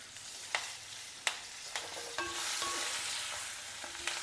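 Baby potatoes seasoned with chilli powder, salt and curry leaves roast in a pan over a low flame, giving a steady close sizzle with a few sharp clinks of a spoon stirring them.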